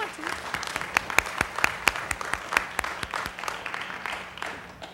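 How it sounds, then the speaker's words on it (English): Scattered, fairly quiet clapping from a small group at a mock trial in a courtroom, individual sharp claps standing out in an uneven rhythm, with a few voices murmuring underneath. "Do we clap?"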